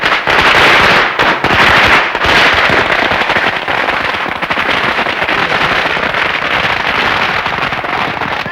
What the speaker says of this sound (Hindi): सगाई में पटाखे?